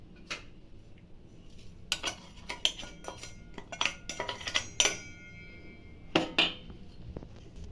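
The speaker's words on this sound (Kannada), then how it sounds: "ಈ ಸಕ್ಕರೆ ಪುಡಿ ಮಾಡ್ಕೊಂಬಂದಿದ್ದೀನಿ ಈಗ ಇದನ್ನು ಕಾಯಿ ಜೊತೆಗೆ ಹಾಕಿ ಮಿಕ್ಸ್ ಮಾಡ್ತೀನಿ" Sugar ground to a fine powder is stirred together with grated coconut in a bowl for rusk laddu, giving scattered clinks and scrapes of a spoon against the dish, fairly close and moderate, with no voices.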